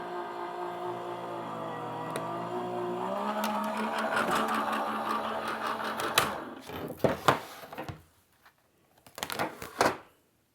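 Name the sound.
Gemini die-cutting machine cutting fabric curves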